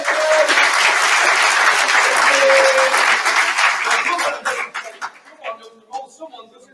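Enthusiastic audience applause at a conference fills the room with dense clapping and cheering, then thins out into scattered claps and fades.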